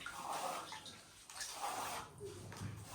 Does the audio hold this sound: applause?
no